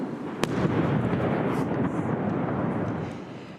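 Missile strike in Kyiv heard as one sharp distant blast followed by a long low rumbling roar that sustains and slowly fades, with no talk.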